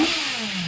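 A BMW G 310 R style roadster motorcycle engine revs briefly, a loud close rising-and-falling drone with a slight downward sweep, no voices.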